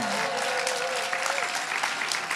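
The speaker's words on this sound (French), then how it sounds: "Vous pouvez vous applaudir" Audience applause for the award winners at a closing-night ceremony, steady dense clapping filling the room throughout, with a faint voice briefly audible over it.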